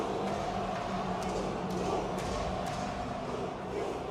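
Dense arena crowd noise at a live WWE event, a sustained wash of voices with faint rhythmic chanting pulses running underneath, loud and continuous throughout.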